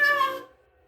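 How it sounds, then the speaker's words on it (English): A cat gives a single short, bright meow, clear and near, that cuts off cleanly into silence. "cats meow."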